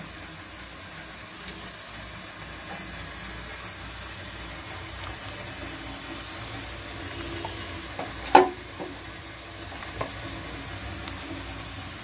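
Onions fry in oil for polao, a soft, low sizzle and hiss running throughout, with a few quiet stirring scrapes and one brief louder clatter near the end.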